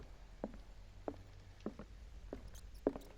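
Faint, quick little squeaks and skitters of a video game mouse recur at a steady pace, small and quiet against a low background hum.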